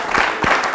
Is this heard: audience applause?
yes